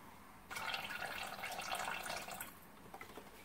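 Vegetable broth pours steadily into a container on a scale, a soft continuous liquid stream for about two seconds that then trails off into a few faint drips, with no talking.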